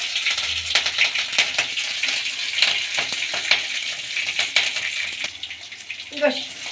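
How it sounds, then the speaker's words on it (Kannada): Mustard seeds and cumin frying in hot cooking oil in a pan, a bright continuous sizzle with crackling pops and occasional clicks of a utensil. "ಈಗ ಕುಕ್ಕಿಂಗ್ ಆಯಿಲ್ ಹಾಕ್ಕೊಳ್ಳೋಣ ಈಗ ಸಾಸಿವೆ ಹಾಗೂ ಜೀರಿಗೆ ಹಾಕ್ಕೊಳ್ಳೋಣ"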